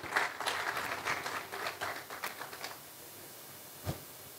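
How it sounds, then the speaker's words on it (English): A conference audience at a sustainable agriculture conclave gives a short burst of scattered clapping that thins out and fades within a few seconds, leaving near-silence with one last isolated thump. "please give a huge round of applause"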